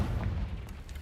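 A Confringo fire spell explodes in Hogwarts Legacy, a loud, deep booming blast with a dense rumbling body that fills the moment and then tails off gradually.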